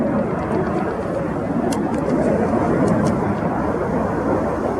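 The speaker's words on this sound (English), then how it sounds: "Each aircraft will dive down to that 100 feet." Red Arrows display jets diving low over the display line at an air show, a loud, steady broadband jet roar that fills the whole stretch without pause, with a few faint higher crackles on top.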